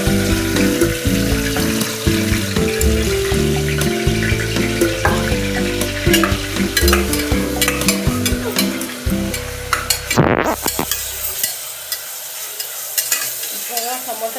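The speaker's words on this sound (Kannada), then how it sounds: "ಟೊಮೊಟೊ, ಈರುಳ್ಳಿ, ಕರ್ಬೇವು ಸೊಪ್ಪು, ಸಾಸಿವೆ, ಜೀರಿಗೆ ಹಾಕಿ ಈ ಥರ ಫ್ರೈ ಮಾಡಿ" Tomato, onion, curry leaves, mustard seeds and cumin frying in a pan, a loud continuous sizzle with stirring scrapes, then a brief splash of running water near the end.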